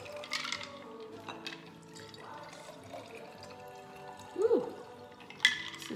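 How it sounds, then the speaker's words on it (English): Margarita mix is poured into champagne glasses for a New Year's Eve cocktail, a soft liquid trickle and splash with a few brief louder pours and a clink near the end. "you pour your equal parts of your margarita mix into champagne glasses"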